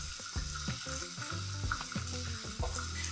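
Peaches grill in a pan with a steady broadband sizzle, partly masked by louder tonal background music that rises and falls throughout.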